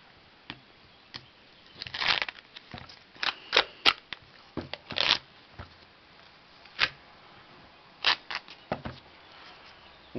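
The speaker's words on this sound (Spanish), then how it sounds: "Vamos a abrir lo que es la cinta americana." A roll of duct tape being opened and pulled for a survival tin kit, with a series of sharp, short tearing and crackling bursts close up in a quiet room.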